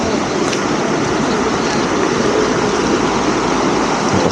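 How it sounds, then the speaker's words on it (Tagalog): Loud, continuous roar of strong ocean waves crashing at Camp Gilmore in Famy, Laguna, a dense wash of noise with no pauses, close and overpowering. "ito yung malakas ng alon"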